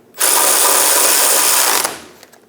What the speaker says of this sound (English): Snug the nut down using a 21mm socket.